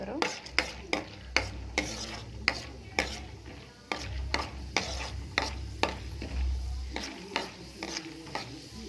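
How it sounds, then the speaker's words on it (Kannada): Chana dal roasting in hot oil in a pan, with steady stirring scrapes and repeated sharp clicks of a utensil against the pan over a continuous low sizzle. "ನಾನು ಕಡಲೆಬೇಳೆ ಹಾಕ್ಕೊತಿದ್ದೀನಿ ಈಗ ಕಡಲೆಬೇಳೆ ಬ್ರೌನ್ ಕಲರ್ ಬರೋ ರೋಸ್ಟ್ ಮಾಡ್ಕೊಳ್ಳಿ"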